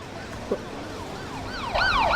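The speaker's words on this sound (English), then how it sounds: "We're just going to roll the ambulance." An ambulance siren in the Emergency 4 video game wails, rising from a faint distant tone to a louder sweeping two-tone call toward the end over steady game background noise.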